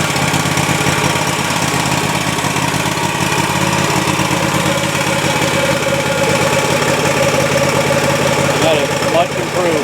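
A Cub Cadet zero-turn mower engine runs steadily nearby with a rough, uneven idle after a new fuel pump was fitted, with a faint voice in the background throughout.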